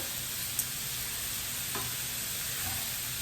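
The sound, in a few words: stirring spicy sausage and shrimp mixture in pot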